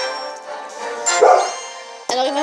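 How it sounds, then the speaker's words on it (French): A dog barks a few times, fairly close, with a sharp yip near the end; faint background noise, no talking. "Oui, désolé pour le bruit du chien."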